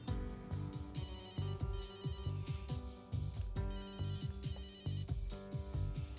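Phone ringtone plays alone in repeated rhythmic bursts of bright electronic tones with short pauses between them, fairly close.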